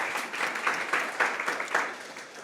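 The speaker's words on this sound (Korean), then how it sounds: "박수 한 번만 좀 부탁드리도록 하겠습니다" An audience at a live talk session applauds, several seconds of steady, moderately loud clapping with small rhythmic surges that fades toward the end.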